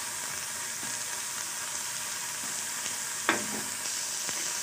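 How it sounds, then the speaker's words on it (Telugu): Coriander leaves fry in a pan with a steady soft sizzle and hiss, punctuated by a few sharp scraping stirs and one louder clink of a spatula, close and without talk. "కొత్తిమీర వేగడానికి చాలా టైం పట్టదు తొందరగా వేగిపోతుంది ఇంకొంచెం వేయించుకుందాం"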